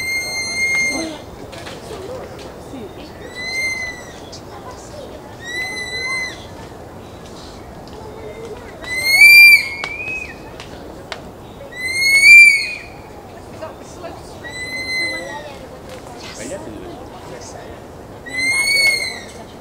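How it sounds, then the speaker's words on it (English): A female sloth calling while mating in Corcovado National Park's rainforest: high, whistling, owl-like hoots repeating every couple of seconds, several stronger bursts standing out over a soft background hum of forest and low voices. "the female sloth was making some interesting noises"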